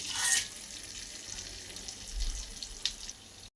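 Butter and whole spices (bay leaves, cloves, mace, cinnamon, black and green cardamom) frying in oil for fried rice, giving a steady close sizzle with a louder burst at the start and no talking.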